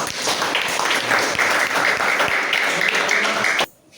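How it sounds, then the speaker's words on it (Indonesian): Students in a classroom applaud with a dense burst of clapping that carries on steadily before cutting off abruptly near the end. "Oke, setelah kita kasih aplaus."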